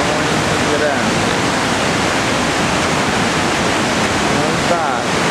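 Iguazu Falls in Argentina roars as a dense, steady rush of falling water, loud and close and unbroken throughout the whole stretch.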